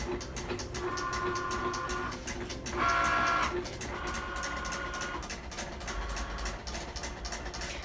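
A Cricut Maker cutting machine runs in short whirring bursts with brief gaps between them, close and fairly loud, with a louder burst near the middle.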